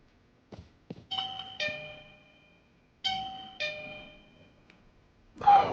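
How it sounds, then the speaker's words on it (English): A doorbell rings indoors, sounding its two-tone chime clearly twice with quiet pauses between, followed by a short burst of noise at the end. "Someone ringing my doorbell."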